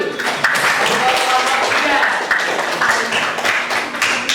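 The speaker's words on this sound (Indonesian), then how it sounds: "Oke, tepuk tangan." A school class claps hands on the teacher's cue during a civics lesson, a short burst of uneven clapping from a room of students, close and fairly loud, with some chatter mixed in.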